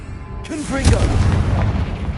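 A Confringo fire spell from Hogwarts Legacy detonates in a loud, booming explosion that rolls on as a deep rumble. A voice is heard right at its onset.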